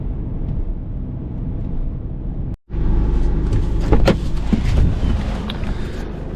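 A car runs along a remote Lapland road toward the Norwegian border, a loud, steady engine and road rumble heard from inside, broken by a brief cut, then joined by bumps and rattles.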